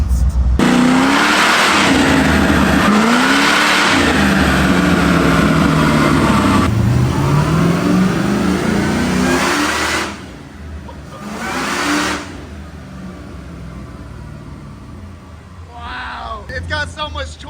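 A supercharged LS3 V8 in a Chevrolet Colorado pickup revs hard and loud in repeated rising surges, then drops back to a lower rumble near the end, with voices talking over it.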